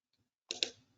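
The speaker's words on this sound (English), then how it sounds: "I can hear you tapping on the keyboard" Two quick taps on a computer keyboard during an online meeting call, sharp and close together, faint and alone in otherwise quiet audio.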